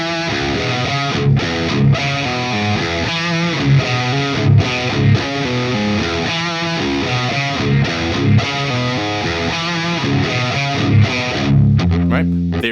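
Heavily distorted electric guitar in drop D plays a riff: a loud, chugging, repeating figure with effects-laden tone, steady throughout and unaccompanied by talk.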